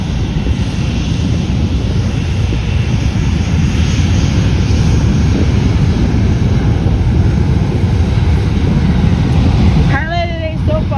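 A JetBlue Airways Airbus A321 airliner takes off from runway 10L at Fort Lauderdale, and its jet engines give a loud, sustained broadband roar that stays steady throughout. A brief warbling chirp comes in near the end.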